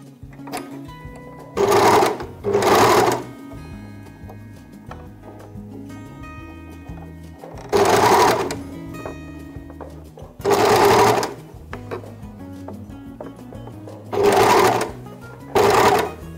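A sewing machine stitches a fabric cuff in six short, loud, close bursts separated by quieter handling noise.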